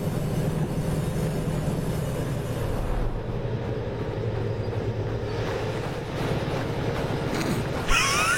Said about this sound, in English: This is all on the diesel now, and the diesel is pushing us.